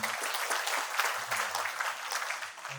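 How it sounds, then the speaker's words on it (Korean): An audience at a memorial ceremony for the anniversary of President Kim Dae-jung's death in Incheon claps together, a brief, even burst of many hands that stays full and steady for a few seconds. "박수 한번 부탁드리겠습니다."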